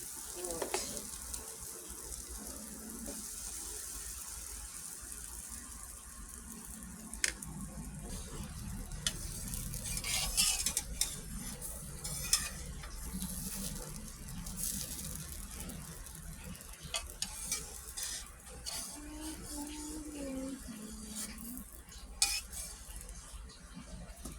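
Milo-tinted pancake batter cooks in melted butter in a pan, a soft continuous sizzle broken by scattered utensil clinks and scrapes against the pan.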